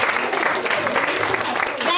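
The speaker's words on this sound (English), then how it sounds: "Everyone clap for Ekta." Steady, crowded audience applause at a book launch event for Ekta Kapoor, filling the whole short stretch as a continuous wash of clapping.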